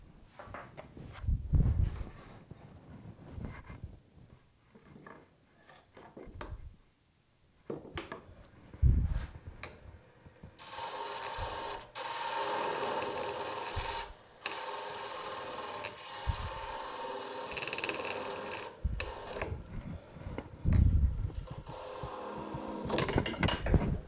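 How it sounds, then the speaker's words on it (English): A wooden rolling pin being parted off on a lathe, scraping and rasping cuts in bursts at first, then a sustained steady grinding cut with a few thumps, moderately quiet. "So I'm going to go ahead and part that off."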